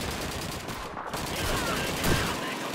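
An MG42 machine gun in the Call of Duty 2 Pipeline Mission fires in a dense, continuous burst of rapid shots amid battle noise, with faint voices mixed in.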